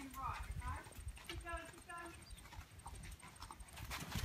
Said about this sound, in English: our rider is doing the trot, one of 4 strides that you can do while riding a horse